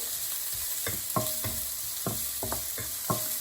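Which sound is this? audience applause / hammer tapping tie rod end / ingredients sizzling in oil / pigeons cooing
ingredients sizzling in oil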